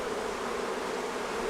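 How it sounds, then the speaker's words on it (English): Honeybees swarm around a hive, making a dense, continuous buzz that is loud and close and stays steady throughout the brief moment, with no voices. "hopefully that'll stop this other hive from swarming"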